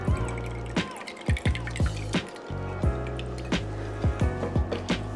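Soy sauce trickles and drips into a measuring cup, a steady liquid flow with several distinct splashy drips, close and clear with no talking.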